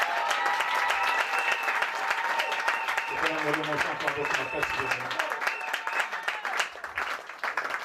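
A church congregation applauding together at a Pentecost service, dense steady clapping filling the space from start to finish, with music and voices running underneath.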